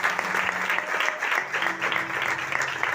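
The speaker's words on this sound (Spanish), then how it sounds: "Bríndele fuerte los aplausos." Church congregation giving strong applause, continuous rhythmic clapping from many hands filling the space, with faint voices and a sustained tone underneath.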